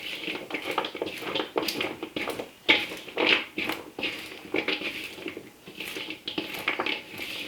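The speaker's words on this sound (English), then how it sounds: "just really give everything a good stir" Sticky popcorn coated in molasses caramel being stirred, with soft irregular crunching, squishing and scraping in a steady stream of close-up strokes, no talk.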